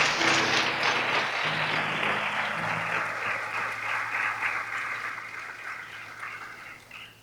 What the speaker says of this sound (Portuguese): Aplauda ao Senhor por isso, pode ser?